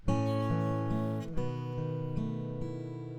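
An acoustic guitar strums a few sustained chords, shifting to a new chord partway through with a faint squeak of a finger sliding along the strings.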